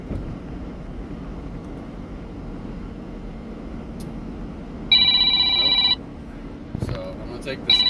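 A telephone rings with a steady electronic ringtone lasting about a second, then briefly again near the end, over a constant low rumble of background noise.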